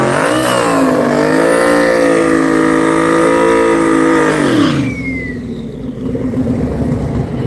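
A twin-turbo drag race car roars loudly through a pass at a drag strip, its engine note holding high and steady before falling away sharply near the end, leaving a quieter ambient rumble.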